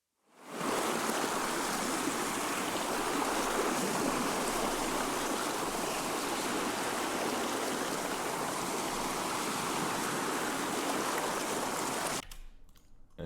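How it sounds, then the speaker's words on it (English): Ocean waves crash as a continuous, dense wash of surf noise, used as a sound effect in a music track. It holds steady and loud for about twelve seconds, then drops away. "This is just the sound of ocean,"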